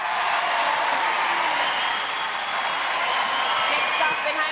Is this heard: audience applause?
yes